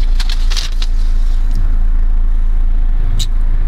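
A Vauxhall Corsa engine hums in a low, steady drone close by throughout, with brief higher clicks and rustles on top and a voice speaking faintly.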